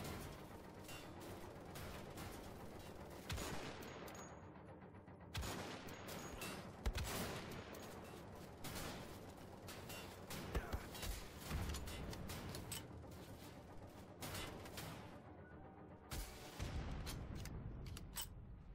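Rifle fire rattles throughout a Wolfenstein: The Old Blood firefight, with repeated loud bursts and single shots packed close together and booming impacts, steady and dense across the whole stretch.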